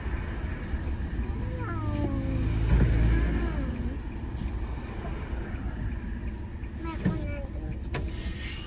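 A car rumbles low and steady while being parked, its engine hum running throughout as voices talk and cry out nearby.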